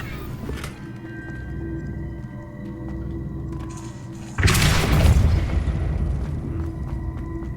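Depulso spell cast in Hogwarts Legacy, a sudden heavy boom with a rumbling low impact that lingers over quiet game ambience and a faint tonal hum.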